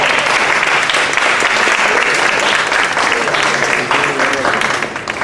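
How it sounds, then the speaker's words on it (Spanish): An audience at a baroque music awards event applauds a music teacher, giving loud, dense and steady clapping that tapers slightly toward the end. "Tenemos al maestro Jimmy, un fuerte aplauso para él."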